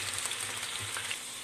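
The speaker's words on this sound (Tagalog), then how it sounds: "mainit na po yung ating pan. Lagyan na natin ang ating potato." Potatoes dropped into a hot pan, a steady close sizzle of frying with a faint stir partway through, brief and without speech.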